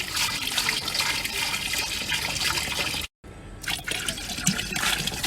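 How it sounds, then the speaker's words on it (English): Water gushes steadily into a smoker's water pan while pork spare ribs are being smoked, a loud, close pouring and splashing that cuts out briefly to silence, then resumes with trickling and sloshing. "So we will fill the water pan up."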